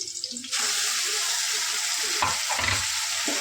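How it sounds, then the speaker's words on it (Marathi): Ground masala paste drops into a pan of frying onion for a dhaba-style whole masoor dish, setting off a loud, steady sizzle with some scraping and stirring noises through it. "आता याच्यामध्ये आपण हे जे वाटण केलेलं होतं ते टाकून घेऊ"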